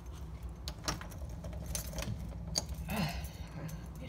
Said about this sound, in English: So, I got my keys right here.